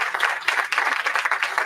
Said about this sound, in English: I don't want y'all to raise your hand, clap